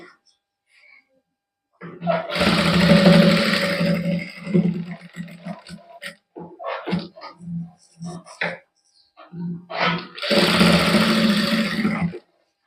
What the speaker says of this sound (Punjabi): ਇਧਰਲੀ ਸਾਈਡ ਤੇ ਵੀ ਉਸੇ ਤਰ੍ਹਾਂ ਸਲਾਈ ਲਾ ਲਾਂਗੇ